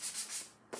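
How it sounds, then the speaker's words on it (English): Sandpaper is rubbed lightly by hand along the edge of a wooden panel, giving a few soft, quick scratchy strokes that are faint and close, with a brief pause before a final swipe. "So I'm just going to sand all of these all the way around."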